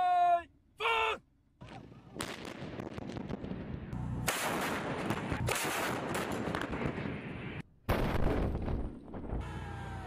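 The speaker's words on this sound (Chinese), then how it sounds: "射击中，官兵们首先对目标进行覆盖式打击，而后分别进行拦阻射击以及发射照明弹等试验性射击" New-type artillery pieces fire during a high-plateau live-fire drill: a sequence of sharp blasts and crackling reports with rolling echoes, separated by short gaps, at moderate distance.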